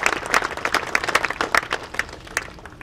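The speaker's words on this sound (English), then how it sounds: "Please give them all a round of applause." An audience at an ice rink rededication ceremony claps for recognized individuals, a moderate crowd with distinct, uneven hand claps standing out in a lively, fluctuating burst that thins toward the end.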